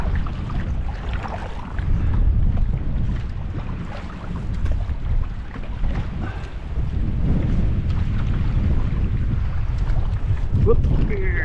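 A boat paddled into the wind on Little Tupper Lake, heavy low wind rumble buffeting the microphone with faint water splashes from the paddle, steady and loud throughout.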